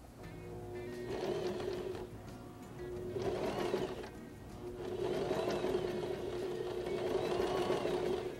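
Domestic sewing machine backstitching on fabric while finishing a multipurpose fabric basket, a steady close motor hum with repeated stitching bursts and a brief pause, no talking.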